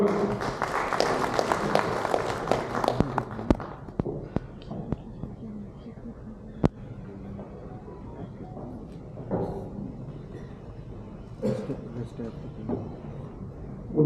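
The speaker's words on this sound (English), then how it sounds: "Let's please welcome with a big round of applause everyone." Audience applause at a business conference, dense clapping for the first few seconds that thins into scattered claps and then fades to room noise, with a few faint claps returning later.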